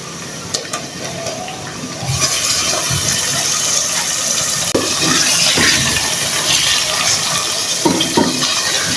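Meat for Peshawari white mutton curry going into a pot of lightly cooked onions, a quiet start that breaks into a loud, steady hissing sizzle with occasional knocks and clatters.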